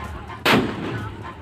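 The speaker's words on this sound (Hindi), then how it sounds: "अवैध तमंचे से फायरिंग का वीडियो सोशल मीडिया पर वायरल हुआ है।" One sharp, loud gunshot cracks from an illegal country-made pistol fired outdoors in Sambhal, Uttar Pradesh, then fades into a rough, noisy background.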